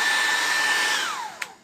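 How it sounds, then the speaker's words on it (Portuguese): Hair dryer blowing over a generous fresh coat of mineral paint to create a crackle finish, a steady close whoosh that winds down near the end with a brief click as it switches off. "você já vai pegar o secador."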